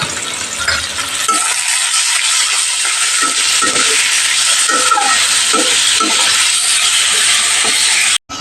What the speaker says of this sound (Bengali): এবার জল ঝরিয়ে রাখা ওলগুলোকে দিয়ে দেব এবং আর একটু হলুদ দিয়ে এটাকে ভালোভাবে ভেজে নেব।